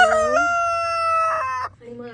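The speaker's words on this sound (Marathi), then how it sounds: "अगदी ह्या कोंबड्या पण." Chickens on a homestead farm cluck and crow loudly and close by, with a rooster's long drawn-out call followed by shorter clucks.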